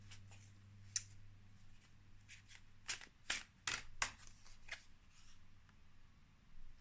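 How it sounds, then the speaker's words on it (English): Tarot cards are shuffled and drawn by hand, giving quiet, close riffles and sharp card snaps, with a cluster of crisp flicks in the middle and softer handling around them. "I'm drawn to pull some more cards and see how it goes."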